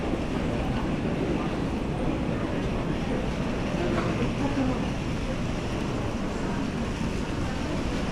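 A German S-Bahn commuter train rumbling steadily and loudly nearby at a station platform for the whole stretch, with faint voices mixed into the noise.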